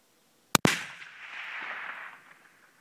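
Explosive blast detonated inside a tunnel, a sharp double crack followed by a long rumbling, echoing decay that fades over about two seconds, loud and close with no talk.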